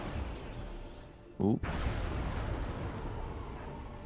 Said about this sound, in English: Plasma cannon shots do knockback, but no damage.